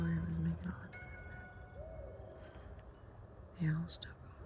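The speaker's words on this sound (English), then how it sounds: "The owl's still going." An owl hoots at night in the woods, giving two low hoots several seconds apart over faint background hiss, with quiet whispering voices nearby.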